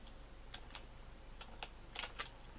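Keys on a ZX Spectrum keyboard are pressed in a quick scatter of soft, close clicks, some single and some in rapid pairs, over a faint steady hiss.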